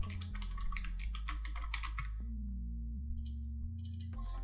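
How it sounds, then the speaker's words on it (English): A name being typed on a computer keyboard: a quick, close run of key clicks for about two seconds, a brief pause, then a few more scattered taps. "I'll type my name now."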